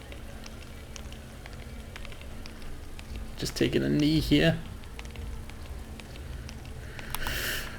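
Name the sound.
rain in the video game Zelda: Breath of the Wild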